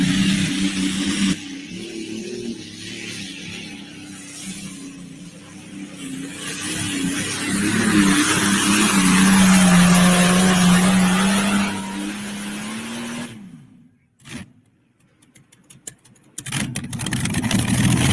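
A 1,710-cubic-inch V12 Allison aircraft engine in a pulling vehicle at a state fair pull, roaring up to a loud sustained bellow, then cutting out abruptly, with sputters and a brief restart.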